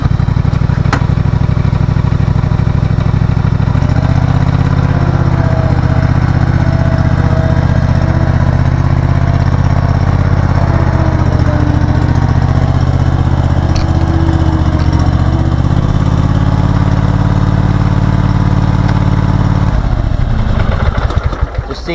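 Cub Cadet zero-turn mower engine running steadily with the blades disengaged, a loud, close, continuous drone that holds for about twenty seconds before fading slightly at the end.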